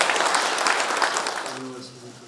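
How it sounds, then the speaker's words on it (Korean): Audience applause at the inauguration ceremony of the 19th president of the Korea Senior Citizens Association, a broad, steady wash of many hands that fades toward the end as a voice begins underneath. "여러분 큰 박수로 축하해 주시면 대단히 고맙겠습니다."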